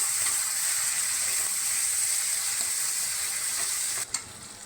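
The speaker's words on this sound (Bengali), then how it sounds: "এবার পেঁয়াজের সঙ্গে ভালো করে ভেজে নেবো আবার" Onions with turmeric fry in a pan with a loud, continuous hiss and crackle, broken by one sharp scrape near the end.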